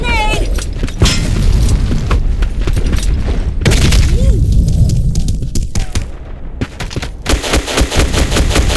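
Grenade blast and heavy gunfire in the online shooter Black Squad, demolition mode: loud, dense bursts of rifle and machine-gun fire with booming impacts run throughout, with brief voice callouts mixed in.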